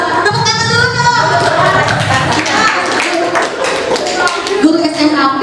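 A group of teachers clapping together at a school staff workshop, a dense, steady patter of hands over several seconds with a bit of chatter mixed in.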